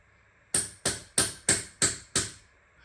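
A hammer strikes metal while a Brinks 642 lock is being picked and gutted, giving six sharp, evenly spaced blows that ring briefly and then decay, close and loud with no talk.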